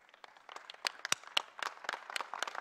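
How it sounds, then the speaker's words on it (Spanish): An audience at a CELAC gathering claps in sustained applause, a dense patter of many hands that swells after a quiet start, with no talk over it. "Quisiera que nos pongamos de pie y le tributemos un fuerte aplauso a Rafael Correa."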